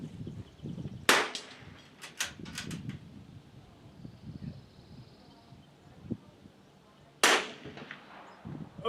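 Two sharp rifle cracks from a CZ 457 at an outdoor shooting range, spaced several seconds apart, with quiet voices talking in between.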